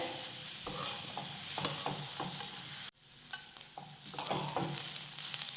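Sliced onion, garlic, ginger and pieces of dried coconut roast in a pan, with a loud, steady sizzle broken by repeated scraping strokes of a spatula stirring, plus a brief dropout midway, close up and with no speech.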